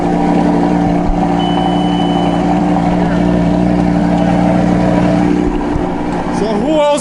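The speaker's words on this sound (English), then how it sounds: "So the Lambo starts" A salvaged 2012 Lamborghini Gallardo Super Trofeo engine running, loud steady idle with strong tonal hum close by, voices talking over it and a brief rise near the end.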